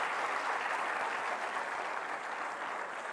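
Steady, sustained audience applause at a university event honouring performances, a dense wash of many hands clapping continuously without pause.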